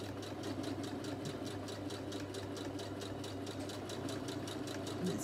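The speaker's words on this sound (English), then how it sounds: "so we'll just sew along here." A sewing machine runs steadily while stitching a fabric face mask with a filter pocket and nose wire, an even rapid needle chatter with a low motor hum throughout, close and moderately quiet.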